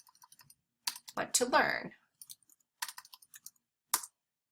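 Typing on a computer keyboard while editing a design template, with short bursts of light key clicks in uneven clusters and a voice speaking briefly over them.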